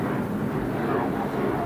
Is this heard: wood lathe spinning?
no